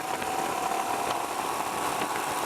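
Royal Enfield Himalayan motorcycle engine running at a steady, fairly loud drone with a constant hum and faint mechanical vibration, no voices.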